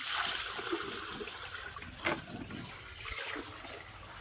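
Water running and splashing into a pot being filled for heating at home, a close trickling pour with a brief splash partway through, no talking.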